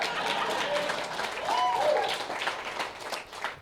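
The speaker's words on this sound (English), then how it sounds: "It's worth clapping for." At a startup accelerator demo day, an audience claps in a steady, moderately loud round, with a few voices and cheers rising over the clapping.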